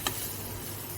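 Cheese fish ball mixture, fish bound with potato, fries in a pan with a faint, steady sizzle and one small tick near the start.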